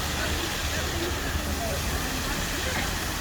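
Steady rushing water from a fountain in London, a dense continuous hiss close by with faint voices mixed in.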